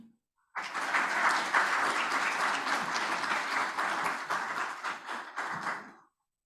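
An audience at a residential real estate webinar gives Ms. Sally Singh a round of applause: a sudden burst of steady, close clapping that holds for several seconds and then tapers off to silence.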